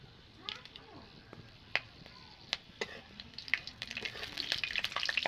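Whole spices, including cloves, cardamom and bay leaves, crackle and sizzle in hot oil for a village-style mutton curry. A spoon stirs them with sharp scraping clicks, and the frying grows louder toward the end.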